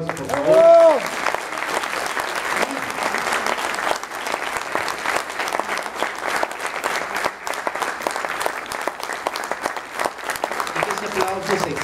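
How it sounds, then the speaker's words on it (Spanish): Applause fills a children's music academy concert, a steady wash of clapping from the audience lasting the whole stretch, with a brief sung or voiced tone near the start and a little talk mixed in. "a todos hay que darles un fuerte aplauso, por favor."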